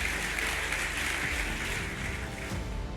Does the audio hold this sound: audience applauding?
yes